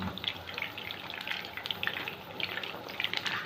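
Chicken pieces frying in hot oil for chicken Manchurian give off a soft, steady crackling sizzle with scattered bright pops, fairly quiet and close throughout.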